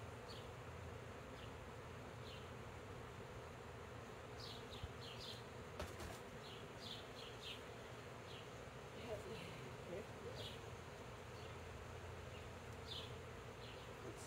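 Honey bees buzz steadily at an open hive during a frame inspection in Casper, Wyoming, a dense droning hum throughout with scattered brief higher zips of bees flying close past.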